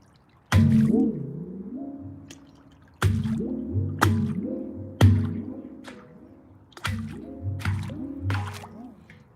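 An instrument dropped into water gives sharp plunks followed by wobbling, bending resonant tones and drips, heard in four or five separate loud bursts that each ring out and fade.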